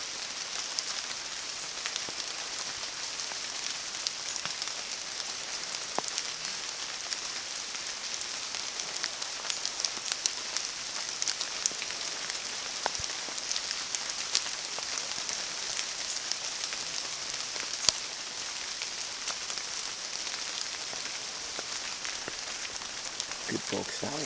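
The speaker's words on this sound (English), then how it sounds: "Just being quiet to recheck to just listen to the rain." Steady rain falling on a woodland walk at Kingscross near Whiting Bay, a soft continuous patter and hiss with scattered sharper drops close by, no talking.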